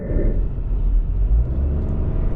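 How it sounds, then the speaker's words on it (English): Steady road rumble and rushing wind noise inside a 2025 Chevrolet Trailblazer Activ AWD crossover while driving, a continuous low drone with no talking. "We're gonna have some wind noise. There's no doubt about that."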